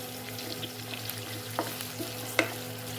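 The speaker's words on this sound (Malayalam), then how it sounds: "ഒന്ന് കുറച്ച് വഴന്ന് വഴന്ന് വരട്ടെ അതുവരെ നമുക്ക് ഇളക്കിക്കൊണ്ടിരിക്കാം" Onions, coconut pieces and green chillies sauté in a pan for a clam meat dish, a steady soft sizzle with a few light scrapes and clicks of a spoon stirring.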